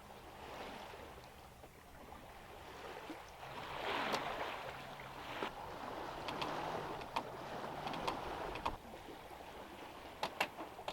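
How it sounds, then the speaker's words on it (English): With the engine off on a sailboat crossing the Bay of Biscay, soft sea water swishes against the hull and wind hisses, a faint, continuous wash with occasional small clicks and creaks. "just hear the sea and all the small sea noises and the wind"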